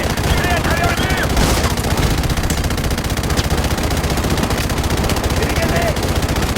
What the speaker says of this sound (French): Tirez! Tirez à travers le mur!